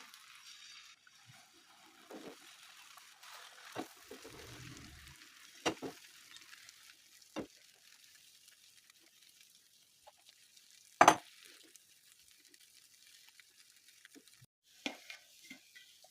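Eggs frying in a pan over stale bread with a soft, steady sizzle, broken by a few sharp pops and clatters.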